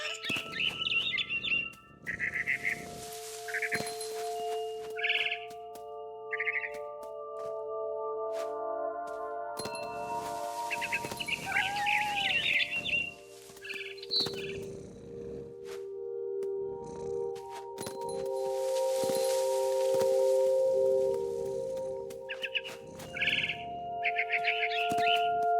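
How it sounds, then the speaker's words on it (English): Barn swallow chirping in the video game What Remains of Edith Finch, repeated short bright tweets in clusters over sustained tonal game music and ambient hum. "Then I heard chirping outside my window. It was a barn swallow going back to her nest."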